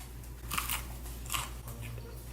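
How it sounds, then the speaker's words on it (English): Crunchy battered chicken tenders bitten at a table, giving two crisp, crackling crunches close to the listener, each brief and bright, with a quieter crackle afterward over a low background hum. "Wow, I heard that crunch."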